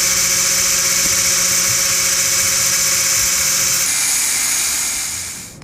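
A power tool cuts through a taped-up bolt on DSSR track-car hardware, giving a steady, loud high-pitched whine that holds evenly, shifts tone partway through, then fades out at the end.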